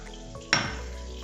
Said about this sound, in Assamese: মই এতিয়া লৰাই পেলাই ফ্ৰাই কৰি দিওঁ।